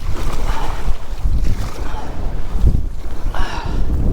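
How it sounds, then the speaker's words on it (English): Strong, gusty wind of about 25 miles an hour roars across shallow open water, buffeting the microphone continuously with heavy low rumble and occasional surges, with waves faintly beneath. "The wind is blowing like 25 miles an hour."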